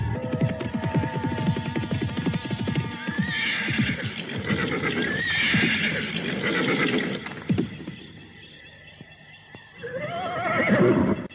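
A horse whinnies and neighs repeatedly amid the clatter of hooves, a busy, continuous, fairly loud scene with a final whinny rising near the end.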